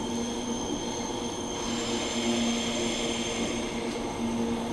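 A Transperth A-Train electric train pulls away from a Perth platform with a loud, steady drone and whine, droning tones rising slightly as it moves off slowly, filling the whole stretch.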